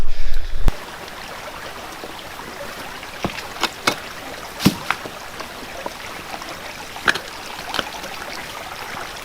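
River water flowing over rocks, a steady soft rush with scattered clinks and knocks from gravel or gear moving in the stream, close by and without voices.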